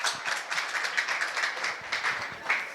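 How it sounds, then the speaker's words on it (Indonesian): Scattered clapping from an audience at a university talk show, a short run of moderate applause close by with uneven individual claps. "Beri tepuk tangan dulu dong teman-teman."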